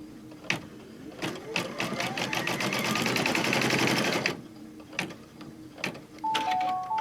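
An embroidery machine stitches a mug wrap in the hoop with a rapid, rhythmic clatter of the needle, broken by short pauses and a few sharp clicks and beeps, close and fairly quiet.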